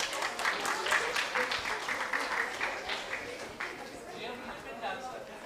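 An audience at a university outreach event claps in a loose, uneven burst that gradually thins, with people chattering and talking underneath.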